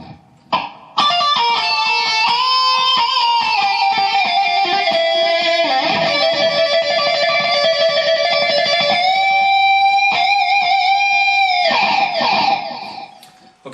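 Electric guitar solo played through a wah pedal, a sustained distorted lead with bends and sweeping tone, loud and alone, ending abruptly.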